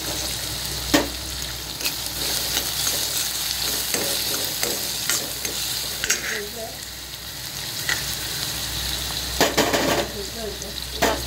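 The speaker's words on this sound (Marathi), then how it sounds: "कढीपत्ता टाकून घ्या। कांदा टाकून घेऊया आपण आणि परतूया।" Onions sautéing in hot oil with curry leaves for a Surmai fish curry, a steady sizzle and fry with scattered clinks of a spoon stirring against the pan.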